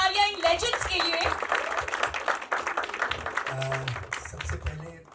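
A crowd at a Bollywood film trailer launch honoring film legends claps and cheers in a loud, sustained burst of applause that fills the room for several seconds, with a voice cutting through near the end.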